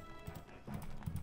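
Horses gallop in the medieval strategy game Stronghold Crusader HD, a quick run of hoof clip-clops in uneven bursts, fairly close and moderately loud.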